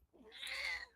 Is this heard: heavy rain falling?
no